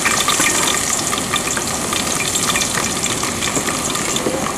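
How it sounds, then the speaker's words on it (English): Onions hit hot oil for a Cameroonian garden huckleberry leaf and potato stew, giving a loud, dense, continuous crackling sizzle with a stirring texture from start to finish and no voices. "It's now heated, so I will add my onions to the oil."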